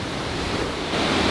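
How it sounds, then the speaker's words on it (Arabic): Afqa waterfalls in the Lebanese mountains roar as a broad, constant wash of rushing water, loud and close, swelling slightly toward the end with no voices. "وهيك يكون وصلنا المكان رقم 1، شلالات أفأة"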